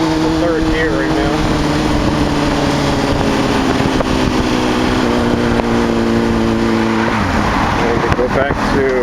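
Motorcycle engine droning steadily in third gear during a beginner's ride, loud and close with wind rush, pitch shifting slightly through a turn near the end, with a voice talking over it.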